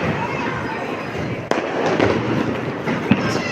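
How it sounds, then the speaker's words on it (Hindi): Fireworks, firecrackers and rockets set off all around outside, below a balcony, with steady crackling and occasional sharper bangs heard from nearby as a voice talks. "चारों तरफ है ना, पटाखे बजा रहे हैं सभी, तो ये नीचे रॉकेट भी जला रहे हैं"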